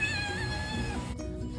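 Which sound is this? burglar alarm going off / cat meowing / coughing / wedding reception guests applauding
cat meowing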